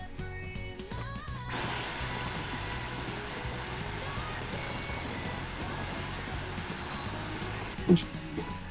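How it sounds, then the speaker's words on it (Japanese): A vacuum cleaner used for dust extraction while cutting wood starts up and runs steadily, its whining motor a continuous airy drone with a brief clunk near the end. "これ掃除機 ほんま効かへんな。"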